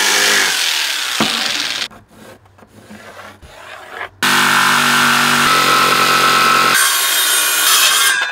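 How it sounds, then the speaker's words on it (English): Jigsaw cutting scrap wood sides for a bike ramp, a loud close buzzing saw grinding through timber, stopping briefly for a quieter pause before the cut resumes steadily. "we're ready to get the jigsaw out, cut the two sides out"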